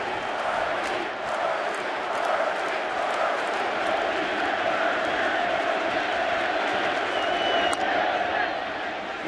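A packed baseball stadium crowd at a World Series game between the Kansas City Royals and New York Mets, a loud, sustained roar of cheering and yelling filling the whole stretch.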